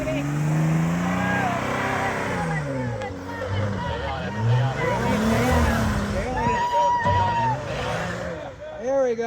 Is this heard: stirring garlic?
no